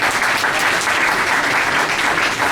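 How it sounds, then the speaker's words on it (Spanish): Conference audience applauding a speaker, a dense, even wash of many hands clapping at a steady level throughout, close and full with no voices standing out. "vamos a darle un fuerte aplauso"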